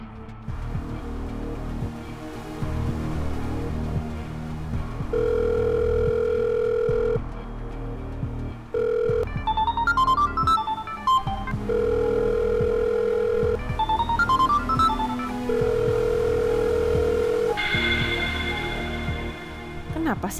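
A telephone call rings out unanswered in an Indonesian drama scene: a steady electronic ringback tone pulses in repeated long beeps, with brief chiming notes and a music bed running underneath throughout.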